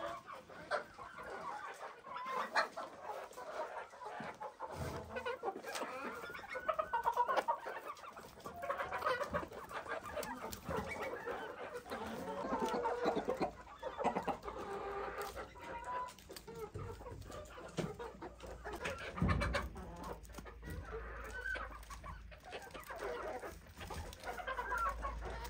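Chickens cluck and murmur continuously in a village poultry coop on a snowy winter day, several birds close by with overlapping calls and a brief crow-like note.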